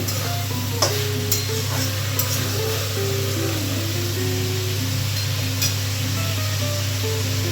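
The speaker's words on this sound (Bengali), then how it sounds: "আমার ভেজিটেবলস গুলো ভাজা হোক, আস্তে আস্তে আমি নাড়িয়ে নাড়িয়ে দিচ্ছি" Vegetables for fried rice frying in a pan on a gas stove while being slowly stirred, with a steady sizzle, occasional scraping clinks and a constant low hum underneath, and no voices.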